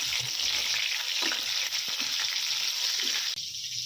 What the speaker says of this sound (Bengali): পটলগুলো একটু ভেজে দিব।